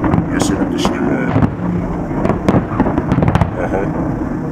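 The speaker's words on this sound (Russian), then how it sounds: "я просто снимаю наш фестиваль фейерверков" Fireworks at a fireworks festival in Brateevsky cascade park, Moscow, with repeated sharp bursts and crackling pops at varying distances, and someone talking close to the microphone over the display.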